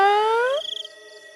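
A long, drawn-out, eerie cat meow rising in pitch, loud and close, in a Hindi horror story about a haunted cat, trailing into a fading tonal ring; no speech.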